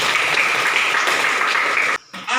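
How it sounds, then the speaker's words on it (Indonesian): Loud, dense applause from a classroom group, clapping steadily and then cutting off abruptly near the end, followed by a brief burst of noise. "tepuk tangan untuk"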